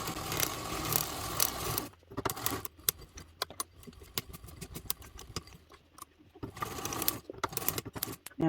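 Hand-cranked sewing machine top stitching a detachable backpack strap, with irregular mechanical clicks and ticks in short bursts, faint and close, between stretches of louder background noise.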